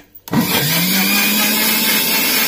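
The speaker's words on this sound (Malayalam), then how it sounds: "മിക്സിയിലിട്ട് നമ്മൾ അടിക്കുകയാണ്" A mixer grinder blends a Bru coffee juice with sugar, kicking on abruptly after a couple of faint clicks and then running as a loud, steady, close-up whir until the end.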